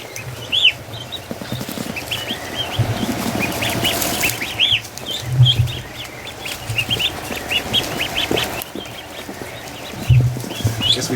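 Rescued ducklings and a gosling peep and call in short, repeated chirps over a steady background hum, with occasional louder bursts and muffled thumps nearby.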